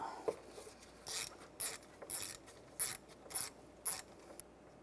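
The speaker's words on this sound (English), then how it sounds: "Now I'm going to use a 10mm socket, take that bolt out." A 10mm socket ratchet loosens the bolt on the VVT solenoid of a 2004-2010 BMW X3. About eight short, close, rhythmic ratcheting clicks come in quick bursts with brief gaps between them.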